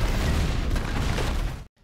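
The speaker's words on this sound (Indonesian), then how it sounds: "Grafik menekan detonator dan membuat ledakan yang membuat kekacauan di sana" An explosion set off by a detonator in a Marvel film scene, a loud, dense boom and rumble filling nearly two seconds before cutting abruptly to near silence.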